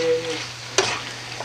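A brief stir of eggplant stuffing with sauce in a frying pan: a soft scrape and light sizzle, close and quiet.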